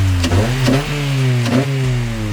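A car engine revs hard several times, its pitch climbing and dropping in quick bursts, loud and close, like shifting through gears.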